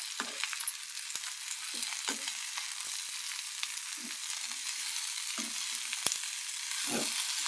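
Boiled cluster beans stirred into an onion tempering in a hot pan give a soft, continuous sizzle broken by repeated scraping stirs, heard up close and fairly quiet with no talk.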